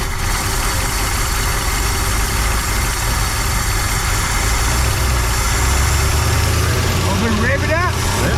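A 1963 Mercury Comet with a rat-infested V8 260, starting for the first time in over 25 years, idles with a steady, loud, even rumble throughout, and a voice briefly comes in near the end.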